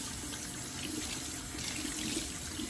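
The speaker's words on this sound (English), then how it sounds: "I'm rinsing out, squeezing and rinsing." Tap water runs steadily into a sink while hand-dyed cross stitch fabric is rinsed and squeezed, a constant close splashing hiss with no one speaking.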